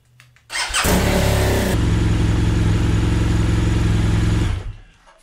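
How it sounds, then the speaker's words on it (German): A BMW R1200GS Adventure motorcycle engine cranks briefly with a starter whine, catches, and settles into a steady loud boxer idle close by, then cuts off after a few seconds. "könnt ihr die Maschine starten"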